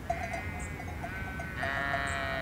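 A sheep bleating in a wavering, drawn-out call, loud and close, repeated twice with a brief pause between, no talk.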